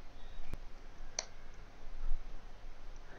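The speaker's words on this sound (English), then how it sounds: "Just click enter." A single Enter key pressed on a computer keyboard during a Windows 11 command-line fix gives a couple of sharp, isolated clicks against a quiet background.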